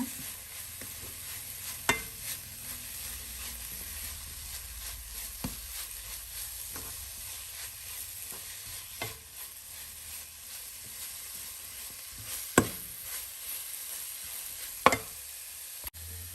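Spices with chaat masala and garam masala stirred in a hot pan during paratha filling prep, a soft continuous sizzle broken by occasional sharp clicks and scrapes of the spoon, close and with no voices.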